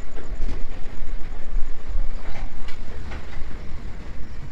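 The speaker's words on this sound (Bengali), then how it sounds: "বোলপুর স্টেশনে 1 ঘন্টা দেরিতে আমাদের ট্রেনটা এসে পৌঁছলো" A passenger train pulls into Bolpur station in India, its steady low rumble and wheel clatter rolling on throughout, with faint rhythmic clicks over the tracks and no voices.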